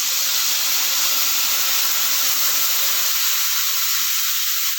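Water streams steadily into a hot pan of hilsa fish curry with ash gourd, a constant hiss and splash with faint sizzling underneath, close and unbroken.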